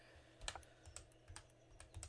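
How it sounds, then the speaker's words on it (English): One-handed typing on a computer keyboard, quiet and close, with a handful of irregular clicks spaced apart. "I'm typing this with one hand."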